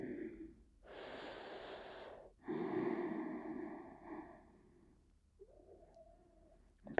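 Slow, deep, audible breaths in and out during a yoga balance pose, each long inhale and exhale close and breathy, with short quiet gaps between them.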